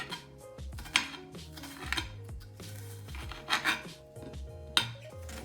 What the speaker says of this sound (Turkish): Şöyle salataya koyar gibi uzunlamasına kesiyoruz soğanlarımızı.